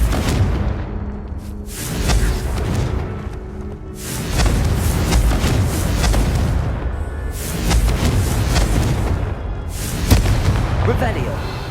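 Confringo fire spells blasting in Hogwarts Legacy, a series of heavy booming explosions arriving roughly every two to three seconds, loud and close, each followed by a crackling, rumbling tail, with voices speaking over parts.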